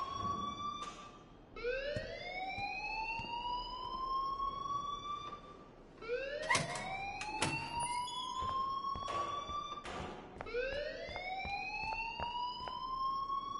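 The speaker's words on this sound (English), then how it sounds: "please turn off that alarm since that's your job" An alarm rings inside the video game Life is Strange, repeating as rising, siren-like sweeps roughly every few seconds. The sound is clear and fairly steady against a quiet background.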